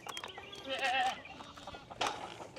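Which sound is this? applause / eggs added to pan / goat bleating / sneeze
goat bleating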